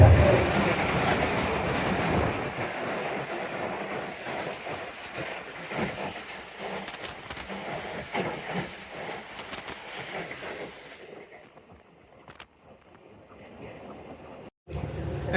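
The Millat Express train passing on the main line in Pakistan, a loud, steady roar of rolling wheels with rhythmic clickety-clack that holds close for about eleven seconds, then drops away to quieter rumble with faint voices.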